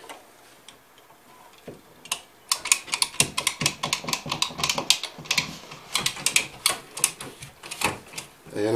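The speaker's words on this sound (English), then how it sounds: "And we're going to clamp it down again." Rapid clicking and ratcheting of a crimp tool clamping a ring onto a plastic water line fitting, a dense run of close, sharp ticks with brief pauses.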